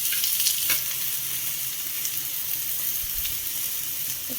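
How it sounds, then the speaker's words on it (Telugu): Chopped potatoes fry in oil with cumin, mustard seeds and onions, giving a steady, close, bright sizzle with light stirring scrapes throughout. "ఆలు కొంచెం బాగా ఆయిల్లో మగ్గాలండి మెత్తగా"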